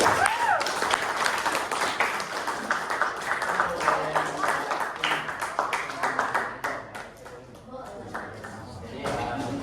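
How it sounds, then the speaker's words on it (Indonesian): Classroom applause for student debate participants, steady mixed clapping from a group that thins out toward the end, with voices talking over it. "Tolong berikan aplaus buat teman-teman kalian"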